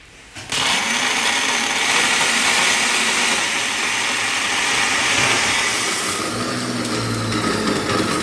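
A loud electric grinder starts abruptly and whirs steadily for several seconds, its motor pitch shifting slightly as material is milled.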